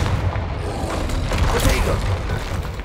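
Confringo spell blasts in the Hogwarts Legacy video game, a dense burst of booming explosive impacts with crackling debris over about three seconds, loud and close, mixed with game noise.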